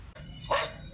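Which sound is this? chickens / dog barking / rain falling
dog barking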